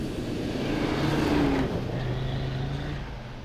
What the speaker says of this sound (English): So 2023 Audi RS3, 400 horsepower.